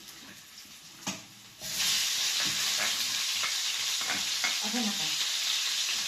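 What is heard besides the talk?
onions frying in a pan for chicken adobo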